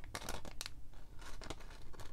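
Scissors snip through homemade rice paper in quick, quiet crisp cuts, several close together in a short, soft burst.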